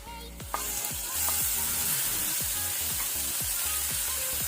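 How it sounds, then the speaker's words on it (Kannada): Tomatoes fry with onions in a pan for a clams soup, giving a steady close sizzle broken by repeated scraping stirs at an even pace, with no voices. "ಇದನ್ನು ಸ್ವಲ್ಪ ಫ್ರೈ ಮಾಡ್ಕೊಳ್ಳುವ."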